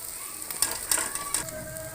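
An egg frying in a pan, with a soft, steady sizzle and a few light scrapes and taps of a utensil against the pan, close and fairly quiet.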